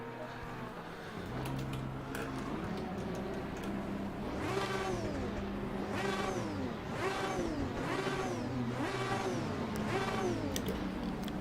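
An Aston Martin Vantage V12 race car revs in Assetto Corsa Competizione at Brands Hatch, its engine pitch climbing and dropping through repeated gear shifts in a loud, continuous rising whine.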